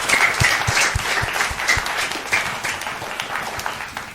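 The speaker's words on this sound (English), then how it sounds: "Please let's give them a round of applause." Audience applause for guests, including military officers, at a cadet TV personality awards ceremony: dense, loud clapping from a crowd, fairly close, holding steady then easing off slightly toward the end.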